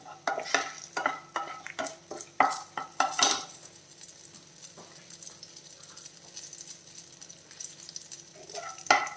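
Crackling sizzle of dried red chillies frying in oil, with a quick run of scraping stirs and clinks of a utensil against the pan early on.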